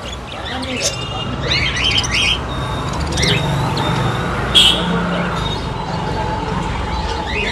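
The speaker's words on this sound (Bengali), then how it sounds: "সেখানে দারুণ কোয়ালিটির বদ্রি পাখি আছে" Budgerigars in a pet shop give repeated bright chirps and squawks over a steady murmur of background noise and passing traffic, with people talking nearby.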